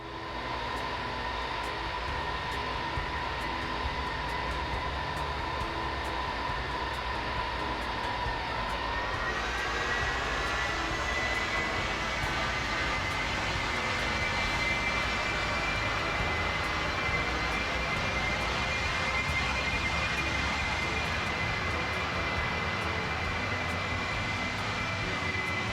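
A Ready for Pushback Boeing 747 add-on in a flight simulator (2004), heard from outside the airplane: a continuous, even jet engine roar with a rising whine partway through. There is little low rumble, and it stays flat and steady throughout.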